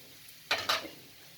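Potatoes drop into a pot of home-made Akhni-style mutton biryani in two quick, close bursts of sizzling clatter, then a brief fading hiss, with no talking.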